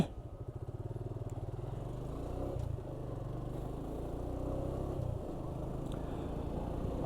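A Suzuki Gixxer motorcycle rides off-road, its engine giving a steady, throbbing low drone with a slight dip and swell in the middle, recorded from the bike itself.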